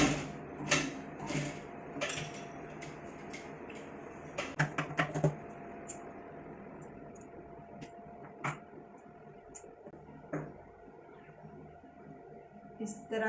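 A sewing machine runs in short bursts while stitching a deep-neck princess-cut blouse, its quick mechanical rattles and clicks separated by pauses, with someone talking quietly over it.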